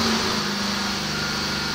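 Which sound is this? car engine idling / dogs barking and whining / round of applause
car engine idling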